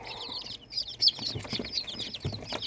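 Baby chicks, about five days old, chirping under two heat lamps kept at 30 to 35 degrees; a busy mix of thin, high peeps close by, overlapping continuously with occasional louder calls.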